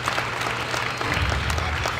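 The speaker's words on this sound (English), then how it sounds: "So we just get a round of applause for Rising Voices." Conference attendees applaud for Rising Voices, a brief, even burst of crowd clapping that is fairly close and loud, with no talk over it.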